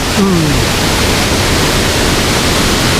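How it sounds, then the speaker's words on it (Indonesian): Hiu Pitu waterfall pours in a steady, loud broadband rush close by, filling the whole stretch without a break; a short gliding tone rises briefly near the start over the roar. "Sampai juga di aliran air terjun yang pertama. Aliran air terjun Hiu Pitu."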